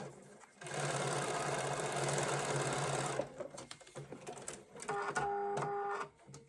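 A sewing machine stitches fabric for foundation paper piecing of a 24-inch snowflake quilt block, one close sustained whirring run followed by a shorter, choppier burst of stitching with faint handling noise between.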